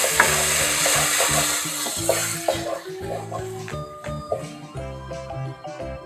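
Chana masala sizzles and fries in a pan while being stirred, with scraping and clattering of a spoon against the bottom over a steady close sizzle. A faint tonal hum runs underneath.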